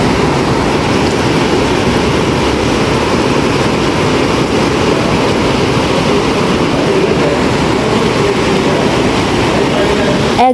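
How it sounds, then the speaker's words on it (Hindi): Heavy night rain and a rushing river in Mandi, Himachal Pradesh, form a loud, steady, unbroken broadband roar that stays constant from start to finish with no voices. "एग्जैक्ट ये साउंड था वहाँ नदी का और बारिश का।"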